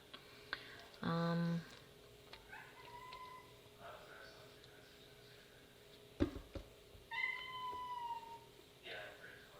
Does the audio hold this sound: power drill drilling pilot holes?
no